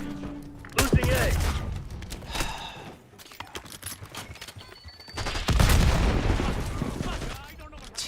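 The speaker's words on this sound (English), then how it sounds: "Teammate killed me with a fucking grenade." In an online multiplayer shooter, a grenade blast and dense gunfire roar together, a heavy boom at the start and again midway, with sustained loud crackling shots and booms in between and no voices.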